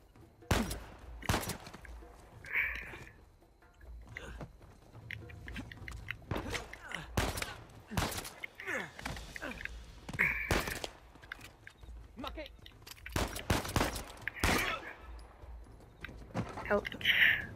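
Enemy gunfire in the video game Uncharted 4 rings out in repeated sharp cracks and short bursts across the scene, some loud and close, mixed with game effects and someone talking over the action.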